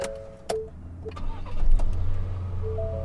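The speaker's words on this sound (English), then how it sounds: "then you can hear that little 4-cylinder engine" A 2019 Ford Ranger pickup's four-cylinder engine cranks and catches, settling into a steady idle rumble after a few clicks and a beep, close by.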